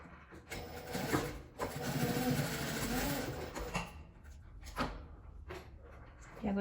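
A sewing machine stitches fabric bias binding on a small scrap-fabric coin purse, running in a steady close mechanical whir for a couple of seconds, then stopping and restarting in short bursts amid light handling noise.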